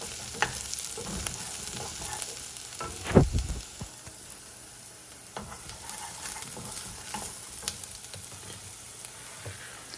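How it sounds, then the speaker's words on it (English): Tomatoes and onions fry in a pan while being stirred, making a steady sizzle with scraping spoon strokes and a louder clatter near the start, no one speaking. "Continue stirring in the tomatoes with the onions to mix them up evenly."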